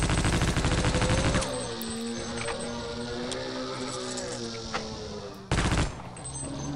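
Gunshots in Half-Life: Opposing Force come as two loud rapid bursts of automatic fire, one at the start and another near the end, with a droning in-game hum in between.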